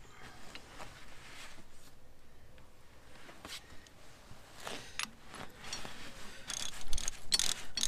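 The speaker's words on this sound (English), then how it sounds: "See if we can get this bolt all the way in without dropping anything" A bolt being screwed into the hitch of a Massey Ferguson 698 tractor, giving continuous scraping, clicking metal-on-metal threading noise that grows busier and louder toward the end, heard alone and close up.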